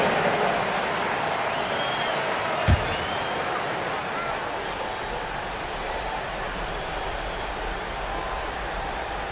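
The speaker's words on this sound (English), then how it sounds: "Round of applause." Broadband crowd noise with applause at a basketball video game, filling the whole stretch, a steady roar of clapping and cheering with a brief sharp thump early on.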